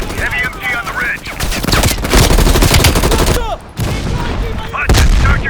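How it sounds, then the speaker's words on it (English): In a Call of Duty Black Ops Cold War campaign battle, a heavy machine gun on a ridge fires dense, loud bursts mixed with booms and other gunfire, with voices shouting over the din. "Watch it, heavy MG on the ridge."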